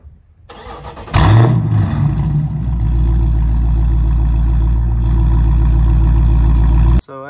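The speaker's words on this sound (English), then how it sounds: "the next mod is the exhaust" A Dodge Challenger 392 Scat Pack with a modified quad-tip exhaust and muffler and resonator delete fires up with a loud, close bark, then settles into a deep, rumbling idle that holds steady before cutting off abruptly.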